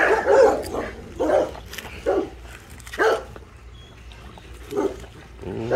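Rottweilers and their puppies barking at feeding time, a run of loud separate barks and yips spaced about a second apart, close by, with no talking.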